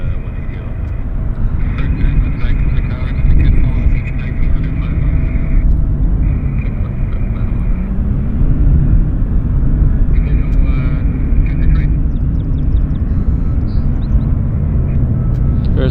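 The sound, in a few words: WestJet aircraft at Vancouver Airport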